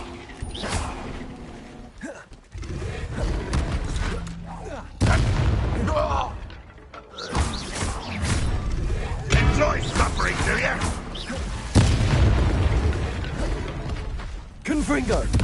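Confringo fire spell blasts in the Hogwarts Legacy game, a run of heavy booming explosions in bursts amid combat clatter, with a player speaking and gasping over them.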